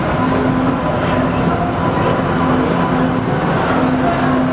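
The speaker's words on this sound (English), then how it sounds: "here comes another train right after that train" Boston subway train arriving at a platform, a steady loud roar of wheels and motors filling the whole stretch with a faint tonal whine, no talk over it.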